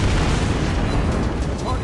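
Heavy naval main-battery salvos from a warship in World of Warships Blitz, fired against an Iowa battleship, come as a dense, continuous low rumbling boom with sustained blast noise throughout.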